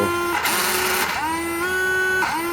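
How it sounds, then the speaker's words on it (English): A faulty steering servo on an X-Maxx RC truck whines in repeated bursts, its pitch sliding up and bending between steady tones as it strains. "That servo does not sound right at all."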